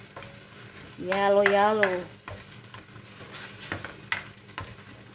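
Chicken breast with curry paste sizzles as it is stirred in a pan, a continuous frying hiss with scraping strokes, while a person speaks briefly near the start.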